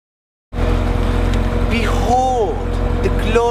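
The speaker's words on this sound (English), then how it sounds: "Behold the glorious Corvette ZR1 in its natural habitat. It's a wild beast indeed." After a short silence, a Chevrolet Corvette ZR1 comes in with a loud, continuous engine roar that stays close and strong, and pitched whines rise and fall over it.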